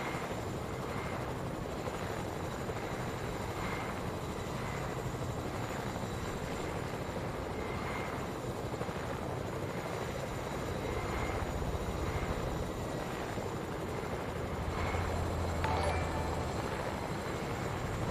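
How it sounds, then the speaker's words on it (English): Steady rotor drone of a helicopter in Fortnite, continuous and fairly loud across the whole stretch with a faint rhythmic chop, no talking over it. "when I jump out of my helicopter"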